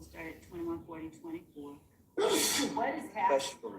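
A single loud, close sneeze bursts out abruptly during a courtroom trial session, cutting in after steady speech and followed by a short tail of breathy noise, with people talking around it.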